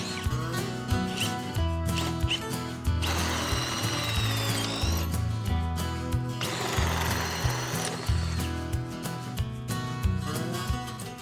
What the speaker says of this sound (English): that's where I'm going to drill my 2-inch hole